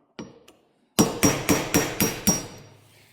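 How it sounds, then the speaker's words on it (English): A hammer drives a punch through the tunnel rivets of an old Polaris Colt snowmobile, with two light taps followed by six loud, evenly spaced metallic blows ringing close by. "I take a punch, a little bit smaller than that diameter, and a punch through there really nice"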